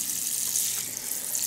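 Water poured onto large columnar cacti, a steady close splashing and hissing rush that runs evenly throughout without pause.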